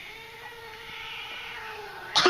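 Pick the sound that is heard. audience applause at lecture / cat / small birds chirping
cat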